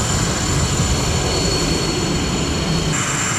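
A South Korean Air Force fighter jet flying past, a steady, loud roaring engine drone that holds constant with no other sounds.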